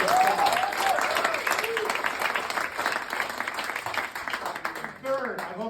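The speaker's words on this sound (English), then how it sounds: "is worth a big round of applause" Loud, steady applause fills a comedy club audience at an Underground Comedy show in Kyiv, a dense wash of clapping with a few voices calling out over it near the start and end.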